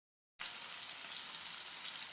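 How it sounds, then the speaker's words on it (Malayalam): Chicken frying in a pan for majboos gives off a steady, close sizzle, a continuous bright hiss that starts abruptly after a short silence and holds evenly throughout with no voices. "അത് റെഡിയാകുമ്പോഴത്തേക്ക് നമ്മൾ ചിക്കൻ പൊരിഞ്ഞ് വരിക"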